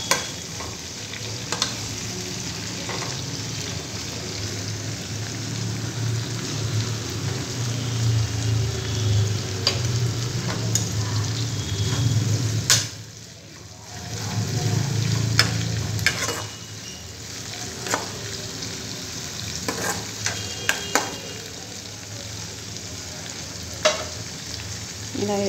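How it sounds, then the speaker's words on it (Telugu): Dried prawns fry in oil, sizzling steadily and close for a long stretch, with occasional stirring scrapes and a brief dip in the crackle partway through. "నూనెలోనే ఎండు రొయ్యలు వేసాను. కొద్దిగా నూనెలో ఫ్రై అయితే ఇంకా బాగుంటుంది."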